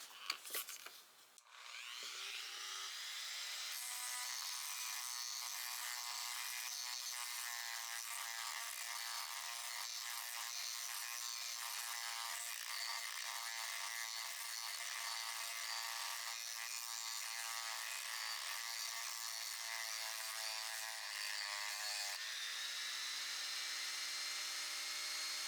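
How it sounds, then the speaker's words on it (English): A WEN 2307 rotary tool spins a sanding drum against the curved section of a steel screwdriver blade, giving a steady, close high-pitched whine with gritty grinding that runs continuously for about twenty seconds before the pitch drops slightly near the end. "Let's try the sanding drum out on this curved section of the screwdriver blade."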